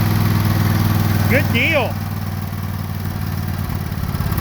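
An old engine, cold-started after sitting unused for a long time, idles roughly with a steady low throbbing chug and uneven clatter, close and loud, while a person speaks briefly over it.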